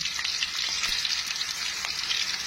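Kofta meatballs searing in a shallow layer of oil, a dense, even frying sizzle with faint crackles close by, no talking.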